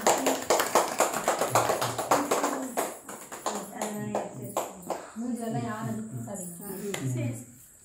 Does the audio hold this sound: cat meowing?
no